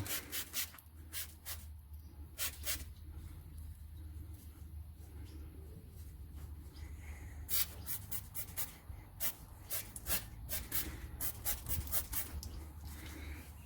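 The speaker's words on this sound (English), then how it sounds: "we'll just spray a bit of degreaser around" Short hissing bursts from a degreaser spray can repeat irregularly, some quick and some drawn out, close by over a low background rumble.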